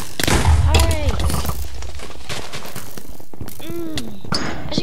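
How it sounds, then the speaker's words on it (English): Gunfire and explosive bursts from a castle siege video game crack in quick, scattered volleys, loud and close, with a voice speaking between the shots. "They're shooting us."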